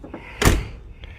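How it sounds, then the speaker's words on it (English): A single solid thunk of a car door shutting close by, with a faint clatter trailing after it. "listen to the door close"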